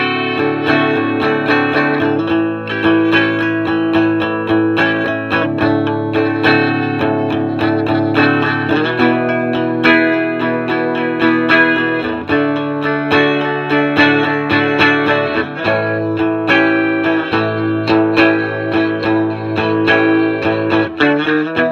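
A Rickenbacker 330 electric guitar played through a Boss Katana 50 amp with no reverb, strummed chords ringing continuously and fairly loud, with a slightly driven tone and no voices.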